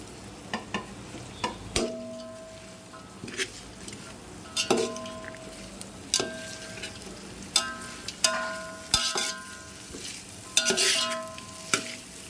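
Mixed vegetables with tomato, curry leaves, mint and coriander frying for restaurant-style vegetable biryani, a steady sizzle under repeated sharp clinks and scrapes of a spoon stirring against the pan, close and without talk.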